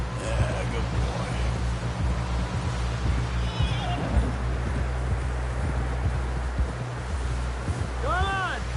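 A horse whinnies in the video game Red Dead Redemption 2, over a steady hum of background noise and rustling, with scattered hoof and movement sounds throughout.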